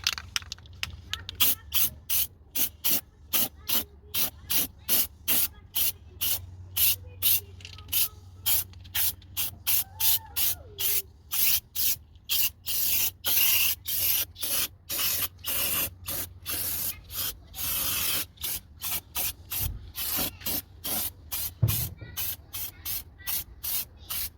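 Another coat of spray paint going onto a car body after rust repair, a long run of short, loud hissing aerosol bursts in a quick, steady rhythm close to the mic, with faint background noise between sprays.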